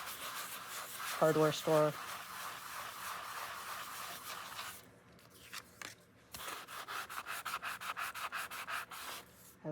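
A sanding block scrubs across card in a quick run of short rhythmic rubbing strokes near the end, preceded by a brief spoken remark and quiet handling sounds.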